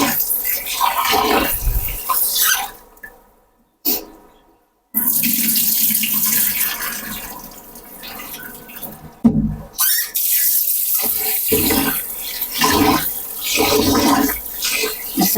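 Polao rice washed gently by hand under running water from a tap, a loud close gushing stream broken by two brief pauses, with swishing and splashing in the bowl.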